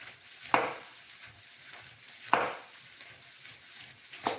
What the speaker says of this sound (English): we're gonna cut very thin onion